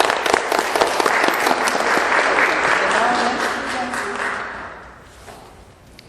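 An audience at a music master class claps together in steady, dense applause for about four seconds before it fades out.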